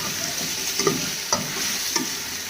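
Tomatoes being stirred into a chicken and capsicum (shimla mirch) curry frying in a pan: a steady close sizzle broken by three distinct spoon scrapes, with no talking.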